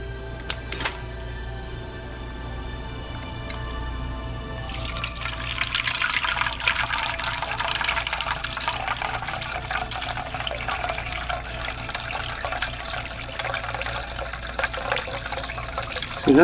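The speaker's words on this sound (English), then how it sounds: "See, that's how I remove the electrolyte water out of the reactor." Electrolyte water in a homemade HHO reactor rising and then being siphoned out through a tube, a soft trickle giving way to a steady, loud rushing and gurgling flow.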